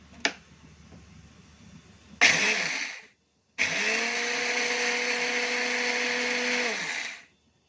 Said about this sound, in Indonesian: pertama-tama berasnya kita blender sebentar, kurang lebih setengah menit